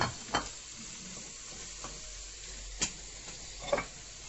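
Potatoes sizzle in a hot frying pan with a soft steady hiss, broken by a few sharp clicks of a utensil stirring.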